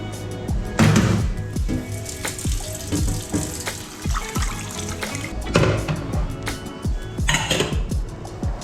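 Shower water runs steadily in a home bathroom, a continuous rushing spray with a rhythmic, music-like backdrop layered over it.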